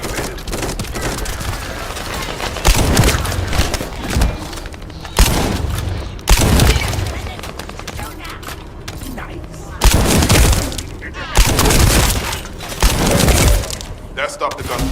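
Gunfire in the shooter game The First Descendant: rapid bursts of shots and heavy explosions arrive in loud, repeated waves, with quieter stretches and occasional voices between them.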